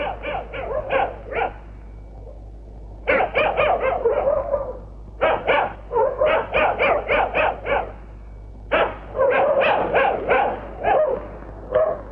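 A dog barks in rapid bursts of several loud, sharp barks, pausing briefly between volleys, over a low steady hum.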